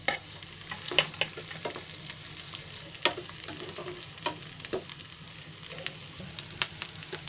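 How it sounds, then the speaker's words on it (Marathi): Onion and green chilli fry in hot oil for egg bhurji, giving a low, continuous sizzle near the mic, punctuated by sharp pops and spatula taps at irregular intervals. "आता त्याच्यामध्ये मी कांदा टाकते. कांदा आणि मिरची टाकते पहिली, कारण ती भाजायला पाहिजे ना थोडी म्हणून."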